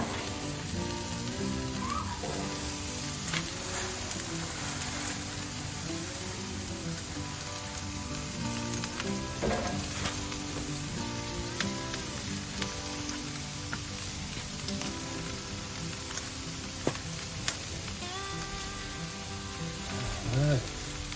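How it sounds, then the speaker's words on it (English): Marinated carne asada with cilantro and onions sizzles loudly and steadily on a Monument Grills Eminence 425 gas grill, a constant crackling hiss throughout with faint clinks of handling and occasional talk in the background. "let's go ahead and put our carne asada in here"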